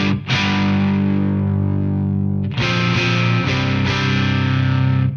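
An electric guitar plays through a Preamp Mark II pedal, with sustained distorted chords ringing out and fresh strums at about one-second and 2.5-second marks and later, loud and alone.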